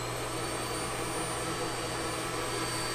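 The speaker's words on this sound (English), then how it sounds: "it has a central vac system. So you can hook up a hose and vacuum all around in here" A central vacuum system in a small travel trailer runs with a loud, steady motor roar and airy whoosh that holds constant and close, with no talk over it.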